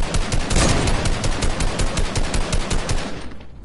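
Rapid volley of gunfire in Fortnite during a Floor Is Lava duos match, a long string of loud, evenly spaced shots cracking out over about three seconds before trailing off.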